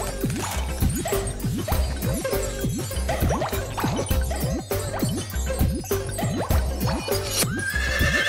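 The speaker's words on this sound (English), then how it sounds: "I spy a horse." A horse neighs repeatedly over a busy, rhythmic backdrop with hoof-like clip-clopping, in a craft segment of a children's television show.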